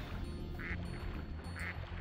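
A cartoon duck in the video game Spyro 2: Ripto's Rage quacks twice, short nasal calls spaced about a second apart over a soft background hum.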